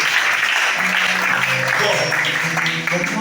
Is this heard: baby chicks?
no